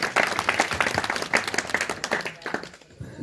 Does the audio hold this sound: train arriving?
no